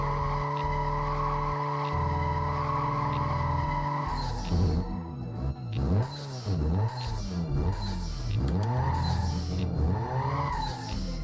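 Car in Need for Speed Most Wanted, a Fiat Punto, engine revving and then tires spinning and squealing in repeated rising and falling screeches, loud and close.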